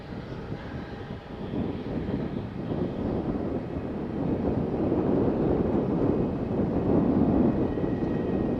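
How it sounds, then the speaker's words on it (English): An EasyJet Airbus A320 jet passes over a beach near Faro Airport, a broad low rumbling roar that builds gradually and stays steady, with some wind buffeting the microphone. "Passing over the beach we have EasyJet A320 from Liverpool."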